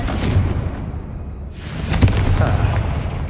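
Hogwarts Legacy's Confringo fire spell lands as a loud, dense blast with a rumbling roar that swells again midway through, sustained and heavy with no voices.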